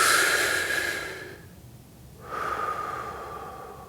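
A deep breath is blown out slowly as part of a bubble breathing exercise, a long airy exhale that fades, a short pause, then another breathy exhale begins; close and alone.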